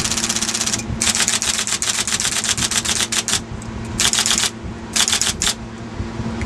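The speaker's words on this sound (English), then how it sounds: "I think the Selectric typewriter will be able to go back in service." A 1977 IBM Selectric electric typewriter typing in bursts of rapid, sharp mechanical key strikes over a constant motor hum, loud and close with brief pauses between runs.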